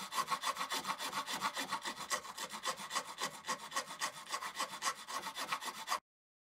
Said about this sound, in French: Je vais commencer par ajuster la surface en utilisant tout simplement une râpe manuelle.